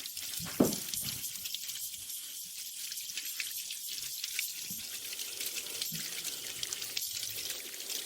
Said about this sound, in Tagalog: Bumigay ang tubo. Ang lakas ng tubig.